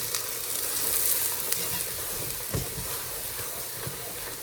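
A melting mixture for red velvet cupcakes is stirred in a pan on the stove, with a steady soft sizzle and hiss and a few scraping stir strokes near the middle, close and moderately loud.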